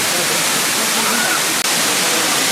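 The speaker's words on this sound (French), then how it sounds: "Nam Mueng Waterfall. C'est sympa ici." Nam Mueng waterfall on Koh Samui, a 10 to 40 metre drop where people swim, gives a steady, loud broadband rush of falling water that runs unbroken, with no voices over it.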